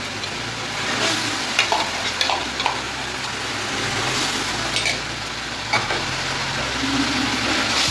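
Tomato, ginger and green chilli paste with spice masala sizzling and frying steadily in a pan for Bengali paneer curry, a continuous close hiss with occasional stirring scrapes and clicks, no talk.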